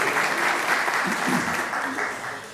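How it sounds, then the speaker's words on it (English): A conference audience applauds an angel investor with dense, sustained clapping that fades slightly toward the end, steady and fairly close. "Why don't we give a huge round of applause for Charlie Gunningham"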